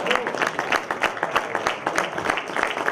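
Spectators at an amateur football match between US Sarre-Union and AS Prix-lès-Mézières applaud a substituted player, a steady ripple of scattered hand claps from a modest crowd with a commentator's voice talking over it.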